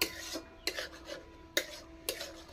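A spoon stirs thickening pizza sauce in a pan, making a soft scraping, rasping rhythm of about four strokes over a few seconds, close and fairly quiet with no talk.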